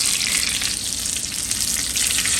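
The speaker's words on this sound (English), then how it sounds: "gonna dip them into the egg and start adding them into the hot oil" Egg-dipped mini chile rellenos frying in hot vegetable oil, a loud steady hiss and crackle of bubbling oil close up, continuous throughout.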